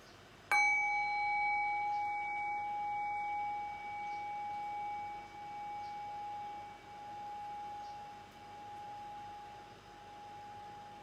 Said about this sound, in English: Rest your awareness on the sound of the bell. Allow the decay of the bell to guide your awareness into silence.